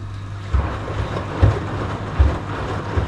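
A new washing machine just bought from an electronics store runs its wash cycle, with water sloshing rhythmically inside the drum; the motor stays nearly silent while soft swishes recur about every second over a low steady hum.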